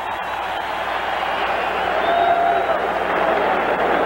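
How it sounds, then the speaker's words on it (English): A fired-up Jets home crowd at a 1986 Monday night NFL football game against the Broncos in a stadium, a steady roar of cheering with a broadcast announcer talking over it. "This is a fired-up Jets crowd."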